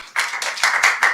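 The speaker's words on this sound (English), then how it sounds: "If you could please give them a round of applause" Applause for two young leaders at a youth session on ending child marriage, a brief patter of a handful of hands clapping in uneven bursts, close and moderately loud.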